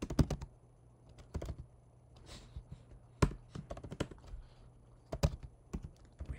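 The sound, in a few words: typing code on a computer keyboard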